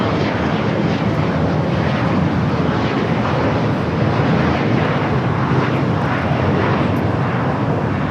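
A jet airliner lands at Los Angeles International Airport, its engines giving a loud, steady, broadband roar that fills the whole stretch without a break.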